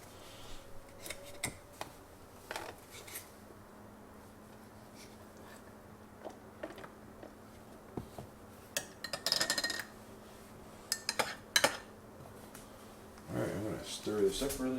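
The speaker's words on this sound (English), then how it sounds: "Stir this up really good." A utensil stirs coconut cream in a container for a keto bread recipe, making scattered clinks and scrapes against the sides, a few sharper knocks near the end, while a person talks over it.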